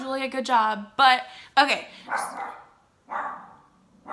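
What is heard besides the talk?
dog barking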